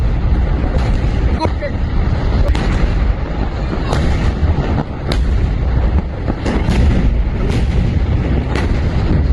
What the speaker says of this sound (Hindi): सिलेंडर से भरे ट्रक में धमाका हुआ और एक के बाद एक 150 सिलेंडर फटने लगे